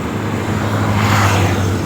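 A steady, loud rush of wind and engine drone while riding a scooter through road traffic, with a continuous low hum and no pauses.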